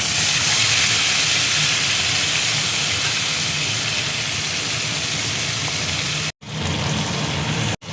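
Eggs fry in melted butter in a pan, a steady, loud broadband sizzle that runs for several seconds, broken by two abrupt brief dropouts near the end, with no talking.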